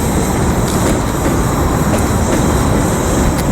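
A train rumbles loudly past Riverside Station in a continuous dense roar, with faint repeated clicks of wheels on rail joints and no talking.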